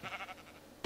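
Bleating animal calls from a Minecraft-style video game, heard as a few soft, short cries in a quick series, quiet and with no talking over them.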